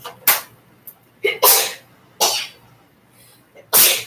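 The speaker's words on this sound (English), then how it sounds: "Sorry. I had to sneeze." Four sharp, breathy bursts spaced apart in a quiet room, each a short explosive sneeze or cough, close to the microphone.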